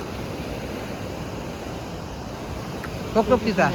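Continuous roar of sea waves washing in on the Konkan coast at Devgad, broadband and steady, with a voice briefly talking near the end.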